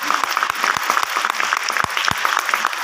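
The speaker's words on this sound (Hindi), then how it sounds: "जबरदस्त ताली होना चाहिए।" Enthusiastic applause for a company managing director at a Hindi-language event, loud crowd clapping with sharp individual claps standing out near the listener, sustained across the whole stretch.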